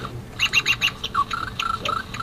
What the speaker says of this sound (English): Is that a bird?